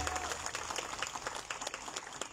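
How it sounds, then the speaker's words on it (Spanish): Outdoors at a free health caravan launch in a central park in Cintalapa, Chiapas, a crowd gives a fairly faint, steady round of applause, with scattered individual claps standing out from the wash. "Un fuerte aplauso, por favor."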